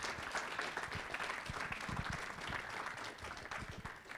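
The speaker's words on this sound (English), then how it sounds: "Round of applause, please." An audience at a startup pitch competition applauding, giving steady, fairly distant clapping that holds evenly throughout.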